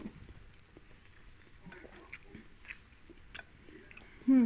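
Someone eating a spicy Thai yum salad with shrimp and sausage: quiet, close bites and chewing with small wet crunches, faint throughout, ending in a brief louder hum.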